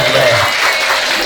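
An audience at a live Indonesian religious talk show bursts into loud, dense clapping that fills a short stretch without a break.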